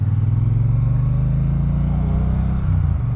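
A Triumph Bonneville T120 motorcycle engine runs with a deep, loud, pulsing low rumble that holds steady for about three seconds, with a slight dip near the end and no talking.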